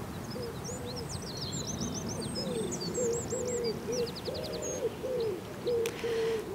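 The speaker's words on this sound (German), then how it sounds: "Und oben eine Ringeltaube ruft." A wood pigeon's soft, rhythmic five-syllable cooing phrases repeat in the distance, with small birds chirping higher up against steady outdoor background noise in a city forest in Augsburg.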